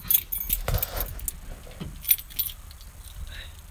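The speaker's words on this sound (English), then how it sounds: "I got my keys on me." A bunch of keys jangles and rattles in a few quick bursts, close and fairly loud, as someone handles them outdoors near a Jeep before opening a shop.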